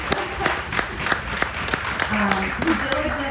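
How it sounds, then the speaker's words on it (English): An audience at a ribbon-cutting event applauds Dr. Jennifer Sawyer, steady clapping from a crowd with a voice speaking over the later part. "I just have to give her a round of applause."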